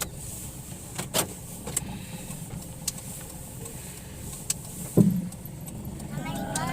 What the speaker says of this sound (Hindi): अब ये चलती है गाड़ी अपने घर के लिए।